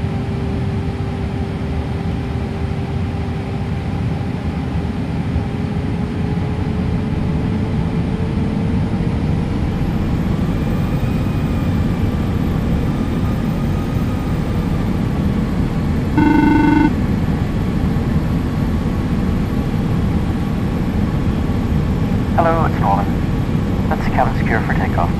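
Jet airliner in the Prepar3D v4.5 flight simulator rolling for takeoff on runway 24 right, a steady loud engine roar with a rising whine that builds through the run, with cockpit chimes and radio chatter over it.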